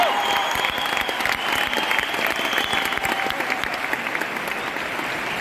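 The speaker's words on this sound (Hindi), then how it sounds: "इसलिए ब्रॉन्ज डायरेक्टर्स के लिए बहुत ज्यादा ताली" A large audience at an award function in Delhi breaks into sustained, dense applause for bronze directors, loud and even from start to finish with a faint crowd murmur underneath.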